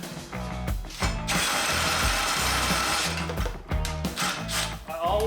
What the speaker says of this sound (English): I always get the drill almost in the face.